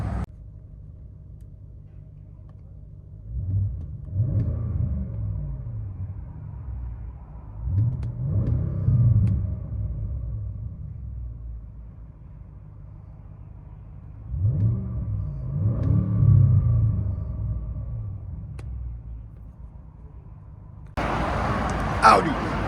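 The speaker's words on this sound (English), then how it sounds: "You guys ready to hear it take off?" A 2021 Audi S8 with a 4.0L twin turbo V8 and double resonator delete rumbles through three deep acceleration surges from inside the car, each swelling and fading, with a brief sharper noise at the end.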